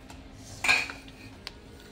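Traditional wheat lapsi being served onto a plate: a short clatter of a serving utensil against the dish, followed by a single light clink a moment later, close and fairly quiet.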